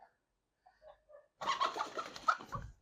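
An outdoor bird, apparently a pigeon or dove, gives a few faint coos and then a louder, fluttery burst of close activity.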